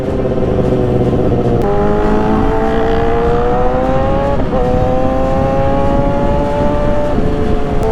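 A Kawasaki ZX6R motorcycle idles and creeps through traffic in Labrador, Pangasinan, its engine a steady, close drone whose pitch climbs slowly in stages, with no voices over it.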